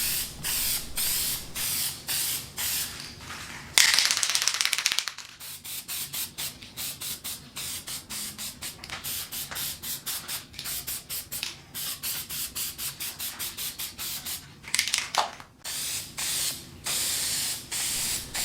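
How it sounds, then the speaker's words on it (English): Rattle can spray paint misted on as a light tack coat, in short repeated hissing bursts with a few longer sprays, close up and with no talk. "Whenever shooting your first coat of paint, always apply a tack coat."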